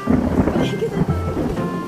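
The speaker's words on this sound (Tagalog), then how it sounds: "Mahangin eh." Steady low wind rumble buffets the microphone, with people talking over it throughout.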